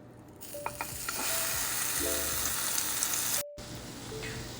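Egg-soaked bread laid on a hot pan, frying with a bright, steady sizzle, broken by a few faint clinks and a brief drop-out.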